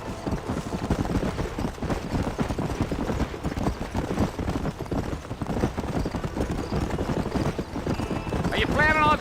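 Horse hooves gallop in Red Dead Redemption, a fast steady clip-clop close up throughout, with a brief whinny near the end and voices talking over the ride.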